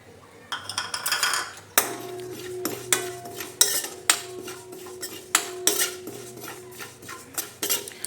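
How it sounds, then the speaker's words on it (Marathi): Carom seeds (ajwain) are dry-roasted in a pan, with a utensil scraping and clinking against the metal in repeated strokes, close and fairly loud, with a faint hum underneath. "आता यानंतर ओवा भाजून घेऊ."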